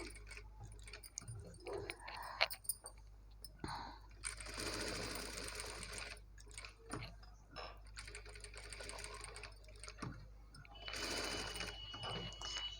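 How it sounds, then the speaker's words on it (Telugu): A sewing machine stitching a blouse along a marked line, a faint fast mechanical whir that runs in several bursts with pauses and small clicks between them. "కొంచెం మెల్లిగా ఇదే మనం పెట్టిన మార్కింగ్ పైనే ఒక స్టిచ్ వేసేసుకోవాలి."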